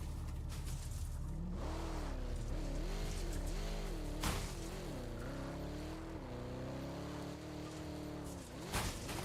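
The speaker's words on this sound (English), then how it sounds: "I can't drive my car if it's too rocky." A car driven over rocky ground in Helldivers 2, its engine droning loudly and continuously with wavering, rising and falling pitch as it labors across uneven terrain, with a couple of sharp knocks.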